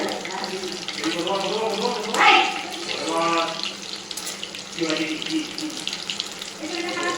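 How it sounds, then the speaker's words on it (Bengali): Chicken pakoras sizzle in hot oil with a continuous crackling hiss, while someone talks over the frying. "এইভাবে একটু টাইম নিয়ে পকোড়াগুলো আমি ভেজে নেব।"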